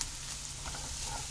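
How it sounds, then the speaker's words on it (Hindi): Spiced black chickpea masala sizzles steadily in a pan over low heat, a soft continuous frying hiss with faint crackle and no talk. "ये देखिए अच्छे से भुन गया है"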